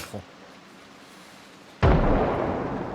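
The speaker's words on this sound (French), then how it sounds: "Un coup de feu." In the video game Project Zomboid, after a quiet stretch with a small early thump, a single loud, sharp gunshot bursts out and rings into a lingering rumbling tail.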